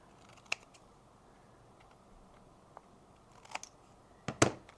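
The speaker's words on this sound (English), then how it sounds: "Let's get our template and make our cuts. My scissors." Scissors snip through a paper Christmas tag traced from a template: a few crisp, close cuts spaced irregularly over quiet room tone, with a cluster of sharper snips near the end.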